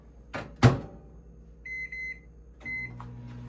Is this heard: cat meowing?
no